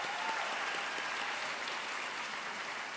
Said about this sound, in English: let's all give you all a round of applause